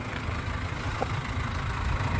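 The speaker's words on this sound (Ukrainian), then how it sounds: "Зараз заведений двигун." A two-litre diesel crossover engine idles steadily with a low, even rumble, close by, no other sounds standing out, at a car market in Rivne.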